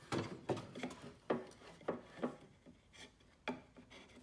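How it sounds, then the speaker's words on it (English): A wooden board being worked into the side of a TV stand, a series of short, close scraping and knocking rubs of wood on wood, quiet and irregularly spaced. "Let's go ahead and get this first board in there."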